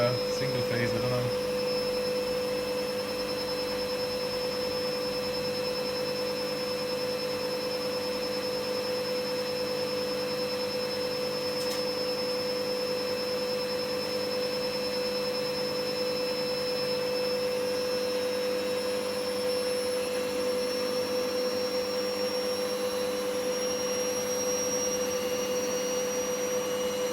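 A Candy washing machine motor, after a failed triac in its motor controller was replaced, runs with a steady whining hum that shifts upward partway through as it speeds up, continuous and fairly quiet.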